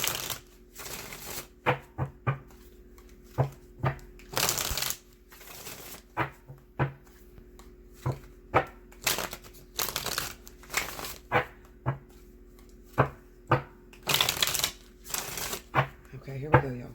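A deck of tarot cards is shuffled in quick, crisp riffling bursts repeating at irregular intervals, with a voice talking in the quieter gaps.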